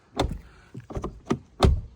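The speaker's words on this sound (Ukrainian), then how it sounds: "От послухайте, просто як закриваються двері." Doors on a 2016 Skoda Octavia A7 liftback, 2.0 TDI, shut one after another: four solid, muffled thuds spaced through the moment, close by and with no speech.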